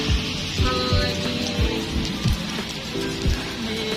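Steady rain falls on a street while people shelter from it, a constant wash of patter with a low rumble beneath, holding at an even level from start to finish.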